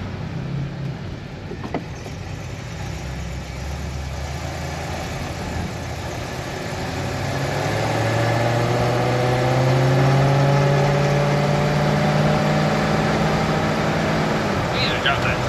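A 1964 Rambler Ambassador 990 engine runs at a steady idle, then swells louder and smoother in the second half as revs come up slightly, close by with a faint hiss over it.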